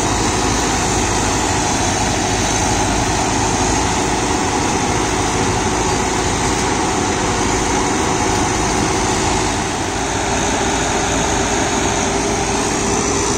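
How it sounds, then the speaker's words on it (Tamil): A New Holland 9010 Excel tractor drives a GS Rhinocer rotavator mulching banana plants, a loud, unbroken engine roar and mechanical churn that stays close and steady throughout. "டிராக்டரோட டர்போ பவர் வந்து முழுசாக தெரிஞ்சுக்கிறோம் அப்படின்னா இந்த மாதிரி ஹெவியான யூசேஜில் தான் அதோட ரியல் பவரை வந்து தெரிஞ்சுக்க முடியும்"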